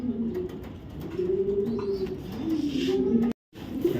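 A light-coloured top-quality racer pigeon coos in a steady, rolling series of low throaty calls up close, with a short gap of silence near the end before the cooing resumes.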